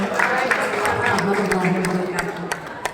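Audience at a teachers' event applauding, with sharp claps scattered over a steady patter while a voice talks over it, the clapping thinning toward the end.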